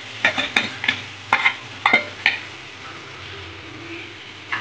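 Tomato paste frying in a pan for chicken biryani, stirred with a utensil that scrapes and taps in a quick series of short strokes over a low, steady sizzle.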